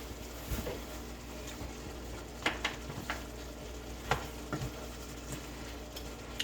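Apples frying in a pan, a soft continuous sizzle broken by a few sharp ticks and stirring scrapes, close and fairly quiet.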